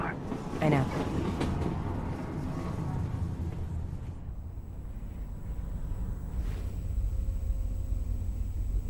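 Video game train rolling along rails toward a junction stop, a steady close rumble with faint clatter running throughout, with a brief voice-like burst near the start.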